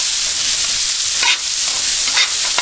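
A metal utensil stirs quartered, sliced onions in a metal pan, giving continuous frying sizzle with a few distinct scraping strokes of metal on metal, close and fairly loud, no talking.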